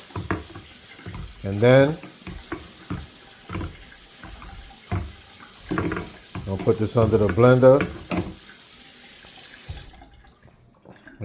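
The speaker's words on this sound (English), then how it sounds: "I'm gonna add like some hot water just to get this the consistency that I want." Hot water runs from a kitchen tap while making puppy mush, a steady hiss under close, intermittent talk.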